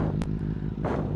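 Benelli TNT 899 motorcycle engine with loud mechanical clatter, running close and steady with a low pulsing throb and a brief sharp clack near the start.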